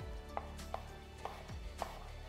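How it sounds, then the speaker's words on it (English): A knife cuts a whole skin-on apple on a board in four quick, evenly spaced chops, close and clear, with no talking. "So we're gonna first cut the apple."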